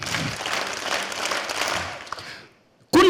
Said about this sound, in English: At a count of 3, we shall clap for 5 times.